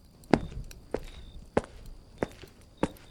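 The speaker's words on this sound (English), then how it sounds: "Heavy boots on concrete." Heavy boots step on concrete with five distinct, evenly spaced footfalls, each a sharp thud, landing near and echoing slightly in a quiet space, with no talking.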